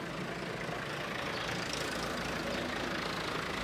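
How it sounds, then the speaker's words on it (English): A tractor with a slurry agitator attached reverses into a farm shed, its diesel engine giving a steady, low, continuous rumble close by, with no voices. "Daddy starts to reverse the tractor and agitator into the shed and positions the agitator carefully into the slurry pit opening."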